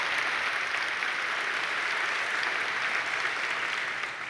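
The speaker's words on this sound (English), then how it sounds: "You're supposed to applaud" An audience at a large technology conference claps continuously in dense, even applause that holds steady and begins to thin just at the end.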